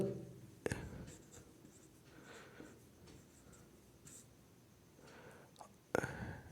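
Chalk or marker writing points on a board during a school science lecture, soft intermittent scratching strokes with a few sharper taps, faint and close, with no talk.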